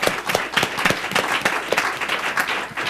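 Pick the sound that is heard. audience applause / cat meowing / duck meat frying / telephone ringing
audience applause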